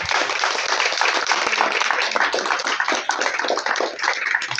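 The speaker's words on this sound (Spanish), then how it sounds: "un súper aplauso para Tina, por favor." A small audience at a children's literature talk in a bookshop claps together, a crackly, uneven patter of many hands that keeps going steadily throughout without speech.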